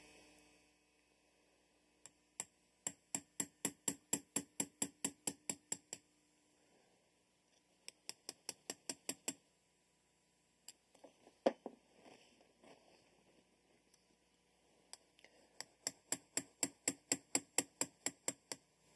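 A 3/32 punch taps a rivet on a Smith & Wesson firing pin retaining pin, giving three quick bursts of sharp metallic ticks, about a dozen evenly spaced strikes each, with a few scattered knocks between them and no talk.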